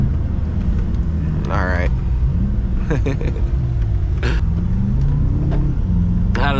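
BMW M5 engine pulling hard in second gear with a steady, loud rumbling drone, heard from inside the car while someone speaks briefly over it.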